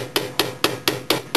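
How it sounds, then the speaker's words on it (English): Flat face of a hammer tapping a flat wire coil for earrings, six light, evenly spaced metallic strikes in a steady rhythm, close and fairly loud with no talking. "pounding it until it flattens."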